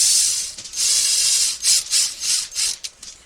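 A ratcheting tool clicks in short bursts while bolts are tightened down evenly in a crisscross pattern on a Carisma Coyote RC build, loud and close with brief pauses between strokes.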